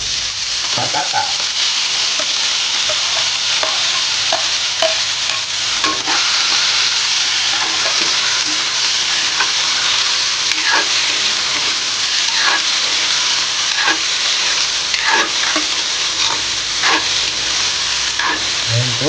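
Potatoes go into a hot pan with golden-browned garlic and onion, sizzling and frying loudly and continuously, while a utensil stirs with repeated scraping clicks and no one speaks.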